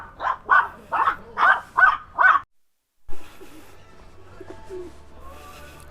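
Pigeons and dogs at a hillside viewpoint in Bagac, Bataan, with six loud rhythmic calls up front, then a short silence and a softer stretch of faint chirps and background murmur.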